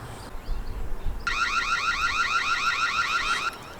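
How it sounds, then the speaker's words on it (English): After a brief pause, a Reolink Argus PT Ultra security camera's custom siren starts, shrill and warbling, wailing steadily for a couple of seconds before cutting off, fairly loud over faint background hiss. "Custom siren sound."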